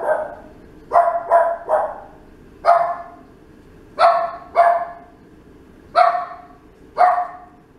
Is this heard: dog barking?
yes